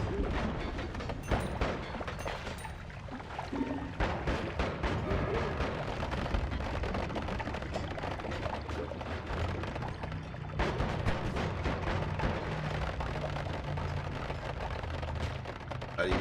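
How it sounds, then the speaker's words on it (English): Dense, continuous bursts of army gunfire and explosions crackle from the roguelike video game Noita, a rapid barrage holding steady at moderate loudness with no voices. "Oh boy, the army's here. Open fire. Open fire."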